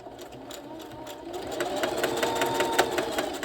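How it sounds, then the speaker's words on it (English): A Singer sewing machine runs steadily, its rapid mechanical stitching growing a little louder partway through, close and continuous with no talking. "Let the sewing machine feed it in itself because it has teeth and it feeds it in itself."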